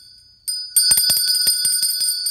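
A louder hand bell rings repeatedly and close by, a bright sustained tone with a rapid series of clapper strikes after a brief first ring.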